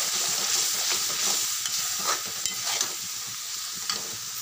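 Onions frying in a pan for stuffed brinjal, sizzling steadily with intermittent scraping stirs of a spoon, fairly close and alone with no talk.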